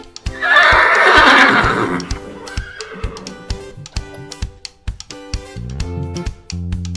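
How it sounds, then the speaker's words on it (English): A toy horse neighs loudly in a long, bright whinny, followed by a run of short electronic toy beeps and jingly tones in a Sesame Street alphabet learning toy. "Horse."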